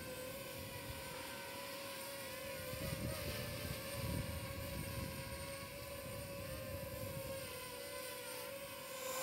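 A DJI drone hovers in gusty wind, its steady whining propeller hum running throughout, with low buffeting wind rumble swelling in the middle.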